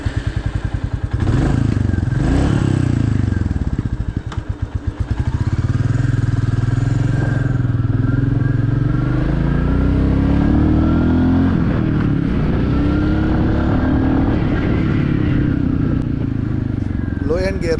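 A Royal Enfield Classic 350 thumps along on a ride, its single-cylinder engine rising and falling through gear changes with strong wind rumble, loud and close throughout.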